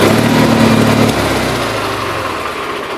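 A small engine turns over steadily after a battery check, a continuous mechanical drone that loudens briefly at the start, then settles into an even, rough cranking rhythm, close and alone without speech.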